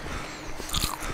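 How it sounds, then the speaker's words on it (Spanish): A can of food being eaten in the video game DayZ, a brief chewing crunch with a bite at the end, close and clear over faint background sound, with no speech. "Voy a comer esta lata de comida"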